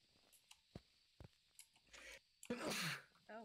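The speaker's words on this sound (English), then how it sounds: "Oh, it's gonna be a big sneeze." A single big sneeze bursts out inside a tent, preceded by a few faint sniffs and breaths, loud and close.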